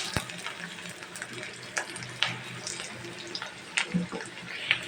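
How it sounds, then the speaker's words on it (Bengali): Chopped onions fry in a wok with a close, crackling sizzle, broken by intermittent scrapes and stirring knocks of a utensil. "এখন কড়াইতে আমি পেঁয়াজ কুচি দিয়েছি, তাতে আমি ভালো করে ভেজে নিচ্ছি"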